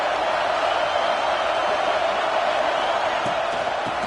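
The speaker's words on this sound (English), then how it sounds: "this crowd trying to help keep them there" Stadium crowd at an Ohio State versus Washington college football game roaring steadily as the home side pins the opponent deep in its own end, a dense, continuous wash of cheering with no distinct breaks.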